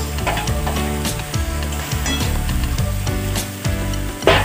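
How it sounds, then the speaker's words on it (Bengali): Potatoes, cauliflower and soybeans drop into a hot pan of spiced base and sizzle steadily at close range, with scraping stirs, under a faint tonal background. "দিয়ে দিলাম আলু, ফুলকপি আর দিয়ে দিচ্ছি সয়াবিন"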